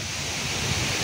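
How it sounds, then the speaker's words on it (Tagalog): Wind rushes past the microphone outdoors at an airgun shooting spot, a steady loud broadband roar with slight gusting and no other sounds heard. "So mahangin-hangin ngayon."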